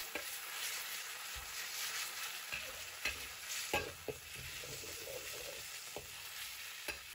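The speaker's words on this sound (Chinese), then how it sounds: "油热，我们先下入肉片煸炒" Slices of meat stir-fry in hot oil in a wok, giving a steady sizzle with scattered scraping and clinking as the spatula pushes and flips them, close by and without talk.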